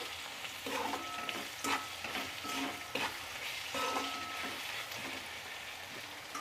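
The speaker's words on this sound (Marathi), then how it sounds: "याला व्यवस्थित असं परतून घ्यायचं आहे" Brinjal bharit mixture with salt being stir-fried in a pan, a moderate steady sizzle broken by rhythmic scraping strokes of a spatula, close up with no talking.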